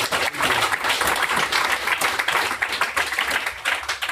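An audience at a gaming meetup during SXSW claps in a sustained round of applause, dense and lively and close throughout, with no talking over it.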